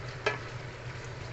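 Food sizzles softly in a hot pan, with one brief scrape of stirring near the start.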